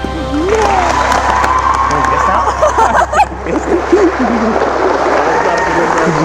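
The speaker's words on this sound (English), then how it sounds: "You just clapped." Wedding guests at a Catholic ceremony in Battle Creek, Michigan applaud the newly introduced couple, with clapping and cheering from the crowd rising over chatter and voices.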